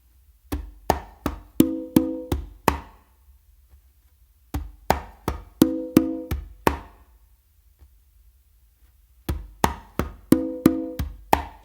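Conga slappy tumbao played in three repeated phrases, each a close run of bass tones, slaps, finger strokes and two ringing open tones, with short silent gaps between phrases and no voices.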